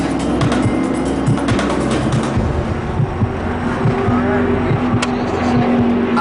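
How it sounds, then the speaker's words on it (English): Race car pulling out of the pit lane and gathering speed, a loud steady engine drone with a rising whine, recorded close from inside the car, with no talk. "We get right out of the pit lane, which is where they start, pumping gas and going fast."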